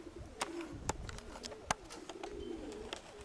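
A blue hen pigeon coos softly and close by just after landing, a few low murmuring calls among scattered sharp taps and rustles.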